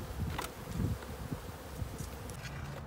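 Honey bees buzz around a hive in a bee yard in spring, a steady, close, dense hum with individual bees zipping past the microphone, and no talking.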